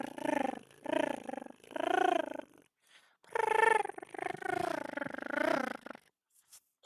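A human voice imitates a cat's purr in a rolling, buzzing series of close bursts, about five phrases with short pauses between them.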